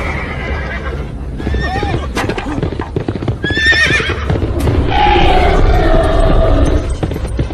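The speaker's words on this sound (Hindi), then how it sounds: "घोड़े को पकड़ो।" A horse neighs and whinnies loudly, close by, as its hooves clip-clop steadily underneath, with other busy scene noise mixed in.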